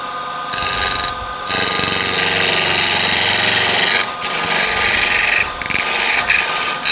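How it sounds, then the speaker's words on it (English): A parting tool cuts into a spinning workpiece on a wood lathe with a loud, close, scraping, rasping whir that comes in several sustained bursts separated by short pauses. "I'll go in with a parting tool now."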